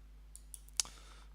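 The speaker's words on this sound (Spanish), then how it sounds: "le podemos dar" A computer mouse clicks in an image editor: a few crisp, quiet clicks close together, the last one a little louder, over a faint steady electrical hum in an otherwise silent room.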